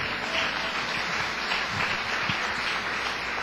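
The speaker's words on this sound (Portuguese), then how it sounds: "Quem pode dar uma salva de palmas?" A church congregation breaks into steady, diffuse applause that carries evenly through the room at moderate volume, with no talking over it.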